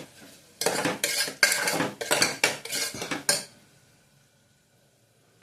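Vegetable pulao stirred after salting, a run of rhythmic spoon scrapes and clinks against the pot for about three seconds, close and fairly loud, then fading to near silence.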